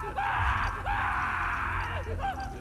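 A character in The Last of Us Part II screams in loud, strained bursts, with a short break and gasping cries toward the end.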